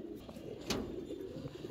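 Caged pigeons coo softly in a brief, faint murmur of low throaty calls, with a single sharper sound near the middle and no speech.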